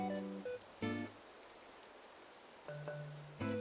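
Steady soft rain patters in Animal Crossing: New Horizons, a continuous hiss under gentle game music notes.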